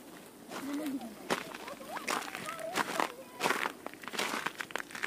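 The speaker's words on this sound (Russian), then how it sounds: "Хрустит прям снег." Footsteps crunching through snow on a cold outing in the Abkhazian mountains near Kamany, a series of close, uneven crunches and crackles with people talking and laughing over them.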